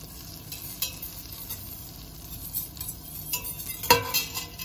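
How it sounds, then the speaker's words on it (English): Butter melting in the same pan used earlier for cooking prime rib, the start of a béchamel sauce, giving a steady quiet sizzle broken by scattered clinks and scraping as a utensil stirs it. "We put a little bit of butter inside, melting this first."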